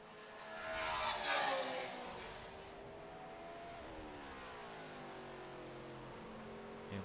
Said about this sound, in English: These cars sound so good here at Lime Rock because we're kind of in a valley of hills.